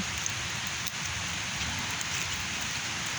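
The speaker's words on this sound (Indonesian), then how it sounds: "udah mulai hujan lagi itu kawan." Steady rain falls at an old burial ground with ancient gravestones, a dense, even hiss of drops on surfaces that runs without a break and with no voices.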